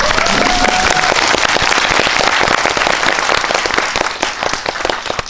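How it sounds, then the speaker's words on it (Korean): Audience applause at a post-screening talk event for a Korean film, dense and loud crowd clapping that holds steady and then thins toward the end into more separate claps, with a brief voice heard at the start. "이 타이밍에 박수 한번 치워주세요"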